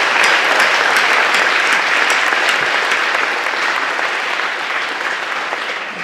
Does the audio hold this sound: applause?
yes